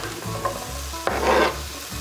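Chopped zucchini goes into a hot pan and sizzles as it is stirred, with a scrape of the utensil and a brief burst of louder frying midway through.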